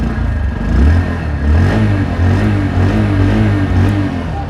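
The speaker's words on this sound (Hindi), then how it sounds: "तो बाइक स्टार्ट हो चुकी है, अब सुनो इसका एग्जॉस्ट नोट।" A 2024 Bajaj Platina 100 E20 motorcycle engine runs close by with a low, steady exhaust thrum that swells gently with light throttle blips, with no talking.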